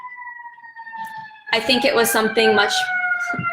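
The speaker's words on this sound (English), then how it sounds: "pardon the sirens" A wailing siren sustains in the background while a person speaks over it; the siren's steady tones continue beneath the talking.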